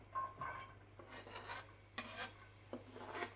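Onions are added to a heated pan for a vegan lentil curry and stirred, making faint, close scraping strokes of a spoon against the pan in an irregular rhythm over a soft, low sizzle, with no talking.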